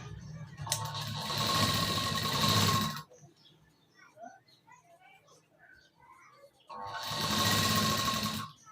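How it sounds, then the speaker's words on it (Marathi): A sewing machine stitches a size 38 blouse with four tucks in two loud, close, steady bursts of about two to three seconds each, with quieter handling and a voice in the pause between them. "आता इथे आपण एक शिलाई देऊन घेऊया"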